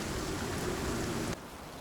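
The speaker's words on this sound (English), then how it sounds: "we can't do anything while the rain is falling" Steady rain falling in the survival game Icarus, a dense even hiss that drops abruptly to a quieter level near the end.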